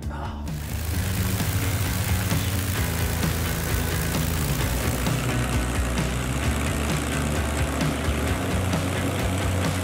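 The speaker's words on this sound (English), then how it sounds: "You'll get to experience the roar of the mighty Mustang." A warmed-up P-51 Mustang's piston engine and propeller run at an airfield before taxiing, a steady, loud, close roar filling the whole stretch with no speech.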